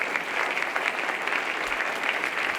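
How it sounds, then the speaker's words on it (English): An audience at a city State of the City address breaks into steady applause, a dense, even wash of clapping from many hands filling the room, with no voices standing out. "Let's give a round of applause to our city clerk,"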